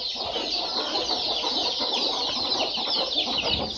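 Native country chickens on a small farm cluck and chatter continuously, several birds close by with a busy, overlapping flock sound and no talking.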